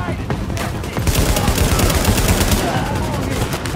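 Rapid automatic gunfire from the video game Tom Clancy's The Division rattles in loud dense bursts throughout, with a player's voice faintly mixed in.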